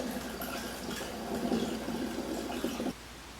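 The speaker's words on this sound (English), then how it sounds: "I'm going to start topping this off with some water." Water pours steadily into a jug of peach honey wine being topped off, a close, continuous splashing fill that cuts off abruptly near the end.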